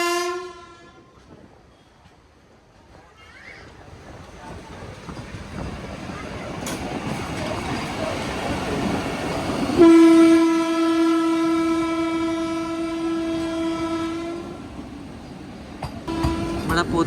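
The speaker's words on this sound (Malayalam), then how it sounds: "നമ്മുടെ പുതിയതായിട്ട് അപ്ഗ്രേഡായ കാസർഗോഡ് തിരുവനന്തപുരം വന്ദേ ഭാരതാണ്." Kasaragod–Thiruvananthapuram Vande Bharat express passing near Kozhikode, a loud sustained horn blast over rising rail rumble and rushing noise, with a second horn note at the start and muffled talk underneath.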